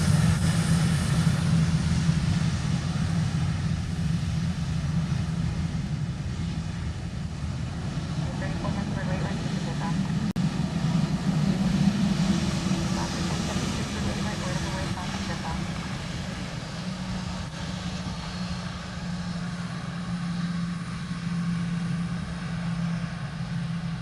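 A jet airliner departing Honolulu airport, a loud, steady low engine roar that holds for the full stretch up close, with a faint higher whine over it and people talking beneath.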